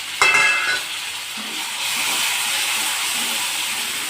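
Onions and tomatoes frying together in a pan for Nellore-style vada curry: a brief clatter at the start, then a steady, close hiss and sizzle that holds to the end.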